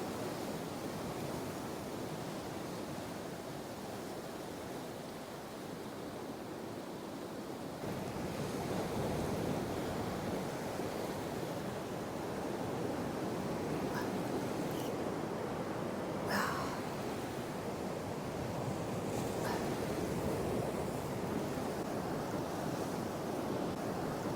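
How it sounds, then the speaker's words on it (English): Sea swell rolling in and washing up the shore on a fairly flat day, a continuous close surf wash that builds louder partway through, with some wind across the microphone. "you get the random odd big swell coming in and washing right up here"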